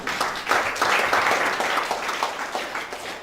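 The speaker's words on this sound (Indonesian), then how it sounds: "Sekali lagi tepuk tangannya." An audience claps steadily after a talk at a scientific writing training workshop, a dense continuous patter of many hands at moderate loudness for the whole stretch, with no voices over it.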